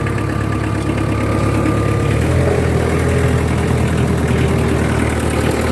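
A Kubota Saturn X20 Japanese mini tractor with half cab, its small diesel engine running loud and steady close by, the tone shifting slightly as it pulls away.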